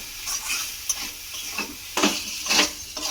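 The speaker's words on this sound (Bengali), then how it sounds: "দিয়ে খুব ভালো করে এইভাবে আমি একটু মিশিয়ে নেব" Spiced cauliflower filling for paratha is stirred and mixed in a pan, giving close, scraping swishes and soft sizzling hiss in uneven strokes, louder toward the end, with no talking.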